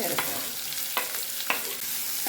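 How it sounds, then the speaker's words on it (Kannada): Onions, cumin and curry leaves frying in oil in a pan for a brinjal dish, a close steady sizzle with a few sharp stirring clicks; no voices. "ಈರುಳ್ಳಿ ಸ್ವಲ್ಪ ಕಲರ್ ಚೇಂಜ್ ಆಗಿಬಿಟ್ಟು ಫ್ರೈ ಆಗಬೇಕು"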